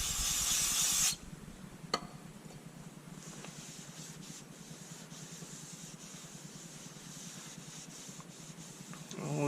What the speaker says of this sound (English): I'm going to go ahead and clean this flywheel off here real quick.